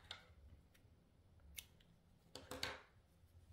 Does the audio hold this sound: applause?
no